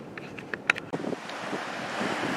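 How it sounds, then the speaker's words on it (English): Gusty wind blows outdoors at the shooting location, buffeting the microphone in a steady rushing roar with a few brief clicks, and no voices are heard. "this wind, as you can tell, is why I didn't do it outside"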